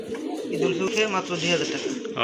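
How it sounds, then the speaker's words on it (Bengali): Pigeons coo in low, rolling murmurs at close range, with restless movement and light fluttering as the birds are handled; a voice also talks over them. "কবুতরগুলো একদম অ্যাক্টিভ আর ফ্রেশ কবুতর এই যে ক্যামেরা ধরছি এই জন্য একটু ছটফট করতেছে"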